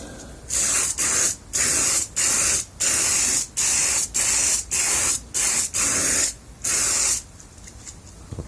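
Repeated short blasts of aerosol spray hiss close by onto wax paper, roughly ten evenly spaced bursts in a steady rhythm, with no voices.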